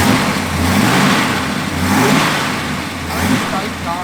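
A 1970 Plymouth Road Runner engine revs and pulls hard while driving, its mid-low roar swelling and easing in waves close up, with no talk over it.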